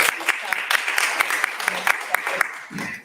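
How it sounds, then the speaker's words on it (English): An audience welcomes panel guests at an education discussion with a steady round of applause, one or two sharp claps standing out close by above the crowd's clapping, while a voice talks over it. "Let's give them a round of applause"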